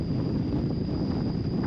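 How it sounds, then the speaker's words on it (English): Steady wind gusting over open water at night, a dull broadband rush buffeting the microphone, fairly faint and unbroken, with no voices. "It's pretty windy out tonight."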